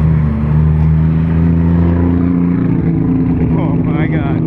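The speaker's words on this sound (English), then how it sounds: "Hey, rev it! Rev it up!" A Nissan GTR V-spec engine roars with a loud, sustained low rumble at a car meet, then rises in a revving sweep near the end, with excited voices shouting over it.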